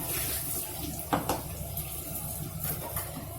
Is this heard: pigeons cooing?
no